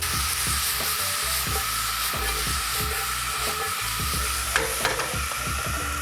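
Steak fajita peppers and onions sauté in a skillet at a campsite, a dense continuous sizzle with repeated scraping stirs and utensil knocks throughout, close and loud.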